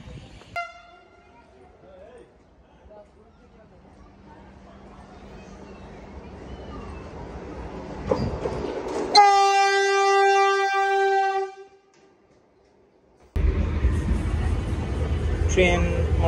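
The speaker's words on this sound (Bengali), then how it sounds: "ট্রেন মোটামুটি রাইট টাইমে ছেড়ে দিয়েছে বোলপুর থেকে" A Vande Bharat express at Bolpur (Shantiniketan) station builds from a rising rumble to a loud, sustained horn blast of several seconds, then cuts to platform noise, with people talking around it.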